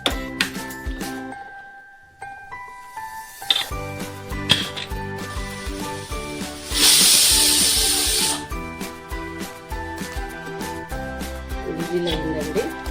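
A pressure cooker holding a stuffed cucumber (dosakaya gutti) curry lets out one loud burst of steam hiss lasting about a second and a half, partway through, over steady background music.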